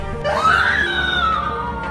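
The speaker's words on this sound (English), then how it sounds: "she screamed" A woman lets out a single long, rising and then falling scream, loud and close, performed as a dramatized horror sound effect with no talk around it.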